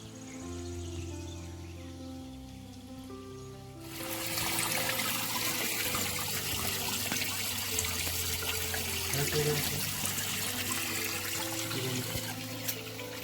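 Clear water at a sacred spring, a steady rushing flow that swells louder after a few seconds and keeps up as a continuous broadband wash, with no voices.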